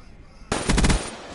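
M8 assault rifle firing in a video game: a short, loud burst of rapid shots after a quiet start, cutting off quickly with no voices.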